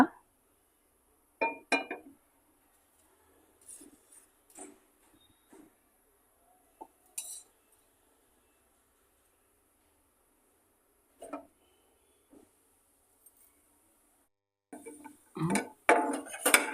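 A metal pan is set on the stove and handled before coconut is fried in ghee, making scattered clinks and knocks separated by quiet gaps, with a busier cluster of clatter at the end.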